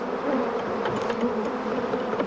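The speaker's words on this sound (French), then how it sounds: "cet épais et bruyant nuage de 160 millions d'abeilles affamées" A dense swarm of some 160 million hungry bees buzzes around beehives, a thick continuous drone that stays loud and steady throughout with no voices.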